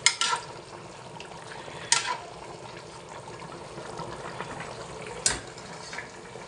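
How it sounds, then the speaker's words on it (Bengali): Bean seeds frying in a pan give a steady low sizzle and crackle, with a few louder spitting bursts near the start, just before two seconds and past five seconds. "সিমের বিচি ফ্রাই হয়ে গেছে, একটু পরে নামিয়ে ফেলবো"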